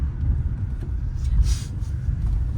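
A Mitsubishi Outlander III rolls along a dirt road, giving a steady low rumble of tires and engine inside the cabin with a soft brief hiss partway through.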